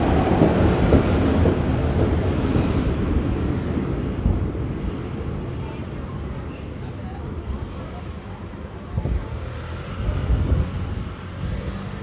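A suburban train rolls into Wongwian Yai railway station in Bangkok with a steady rumbling roar and faint clatter, loud and close, fading slightly toward the end.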